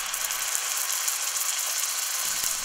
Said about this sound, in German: Ich werde dann den Braten ringsherum anbraten.